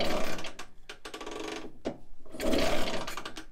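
Someone kick-starts an old BSA C12 motorcycle, producing close, short mechanical clunks and ratcheting clatter in a few separate bursts, with no engine catching.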